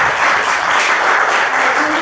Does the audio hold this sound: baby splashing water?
no